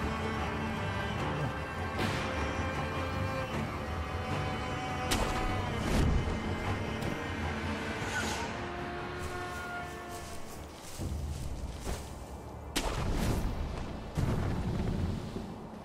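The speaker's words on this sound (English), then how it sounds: "This guy's got a cannon over here" A cannon firing in the game Sekiro: several loud, separate booms crack out at irregular intervals over a dense, rumbling backdrop, each one ringing out briefly before the next, with no talking.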